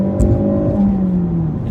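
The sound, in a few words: 2017 Ford Focus RS accelerating flat out in second gear, exhaust crackles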